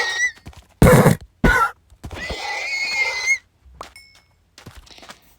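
Horses in Minecraft, including baby horses, neigh in several loud, abrupt bursts separated by short silences, with softer whinnying trills and faint thuds between them.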